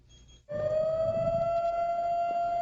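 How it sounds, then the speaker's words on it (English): A siren signalling the Shabbos call to prayer in an Orthodox Jewish community sounds a long, steady wailing tone after a brief quiet start, holding an even pitch, heard from a distance. "A siren signals a call to prayer on Shabbos"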